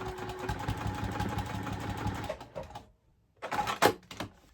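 A sewing machine stitches free-motion quilting on a butterfly art quilt, running in a steady rapid mechanical patter for a couple of seconds, then stopping briefly before short bursts of stitching resume.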